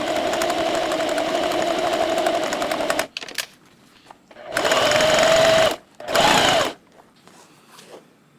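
Sewing machine stitching a hat lining, a long steady whirring run that stops, then two shorter bursts of stitching separated by quiet pauses, close and loud.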